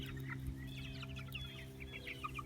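Cornish cross meat chickens foraging on fresh pasture, soft scattered clucks and murmurs from several birds, faint and close, over a low steady background hum.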